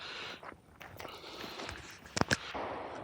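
A 2011 competition pistol drawn from a race holster at a shooting range: a few sharp, loud reports in quick succession, with light shuffling and background noise around them.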